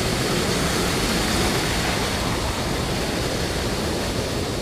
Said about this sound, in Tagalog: may bagsakan dito ng tubig